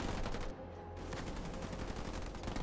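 Sniper rifle shots ring out during a Halo Wars 2 match as dense, rapid gunfire crackles over a constant roar of battle effects, loud and continuous with a brief dip in intensity.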